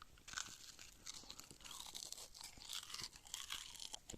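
Close, quiet crunching of crispy grilled food being chewed. Bites and chews come in an uneven rhythm with no talking.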